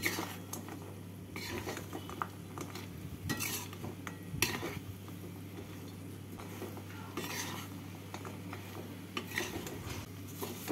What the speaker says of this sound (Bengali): এবারে চিনির এই রসের সাথে নাড়াচাড়া করে নেব।